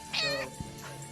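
A cat gives a single clear, rising-and-falling meow up close, followed by a faint softer trailing sound, with no talking.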